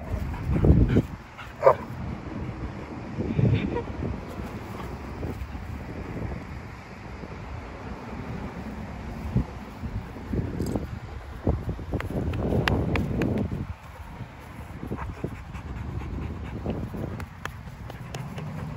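Dogs at a dog park, including a Labrador and a German Shorthaired Pointer, giving scattered barks, yips and soft whimpers outdoors, with wind buffeting the microphone and no talk.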